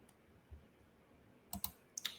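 A computer mouse clicks quietly a few times: one soft tap early on, then a quick pair of sharp clicks near the end and another pair just after, against a near-silent background.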